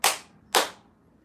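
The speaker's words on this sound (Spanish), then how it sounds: "Si tú estás feliz, aplaude así." Two sharp, bright hand claps half a second apart, keeping time for a children's bilingual action song at a live music session, crisp and fairly close.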